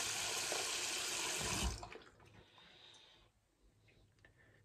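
A tap pours water into a sink during shaving, a loud steady rush that cuts off partway through and leaves faint trickles and drips.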